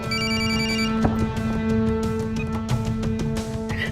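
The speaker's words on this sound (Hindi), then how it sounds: "मम्मी जी का फोन है।" A telephone rings at home with a steady electronic ringtone, sustained tonal chimes repeating clearly and loudly for several seconds over faint room noise.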